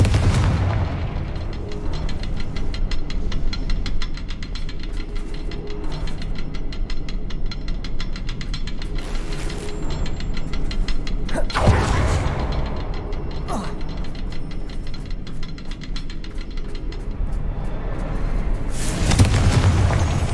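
Confringo spell blasts in Hogwarts Legacy thump out repeatedly over a continuous humming game background, with several sharper, louder bursts, one near the middle and another near the end.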